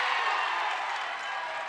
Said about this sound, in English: That definitely excited the Beal City crowd.